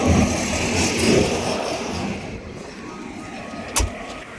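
A Maruti 800 car travels on a long road trip to Goa, giving a steady, fairly loud rumble of engine and road noise throughout, with one short knock near the end.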